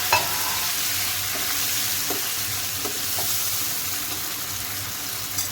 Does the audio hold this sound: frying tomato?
yes